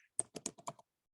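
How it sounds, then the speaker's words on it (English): Keystrokes on a computer keyboard, about six quick taps in a short irregular burst, close and fairly quiet, then silence. "I'm just typing"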